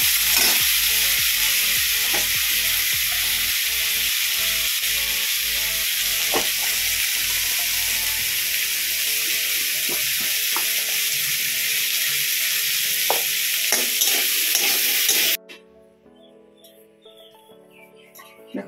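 Mixed vegetables fry in a pan with a loud, continuous close hiss and occasional stirring clicks, the sizzle stopping abruptly near the end and leaving faint background sounds.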